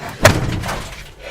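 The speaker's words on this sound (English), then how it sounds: "Shut the door." A pickup truck door slams shut once, a single loud, close thud early on that dies away into quiet room tone; the trucks are a 1973 Dodge W200 and a 2001 Ford F-250.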